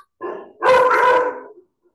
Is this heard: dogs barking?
yes